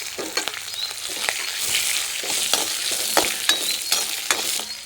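Cut green chilies and urad dal frying in hot oil in a pan, a steady close broadband sizzle with scattered sharp crackles and pops and occasional stirring scrapes, no voices.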